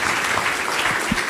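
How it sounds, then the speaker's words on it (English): Audience applause for Indonesian presidential candidate Prabowo Subianto at a CSIS forum: a short burst of steady crowd clapping filling a hall, even and continuous throughout. "Please give Pak Prabowo rounds of applause"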